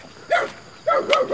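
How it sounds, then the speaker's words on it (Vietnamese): A dog at a rural family home barks two sharp, close bursts, the second a quick run of yelps, with nothing else around it. "vừa mới vào thôi đã nghe thấy tiếng chó của nhà ông sủa rất là ghê cô bác"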